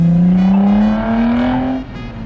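A loud car roars past on a street while being spotted, its engine note rising steadily before cutting off abruptly as it moves away. Close, brief and forceful.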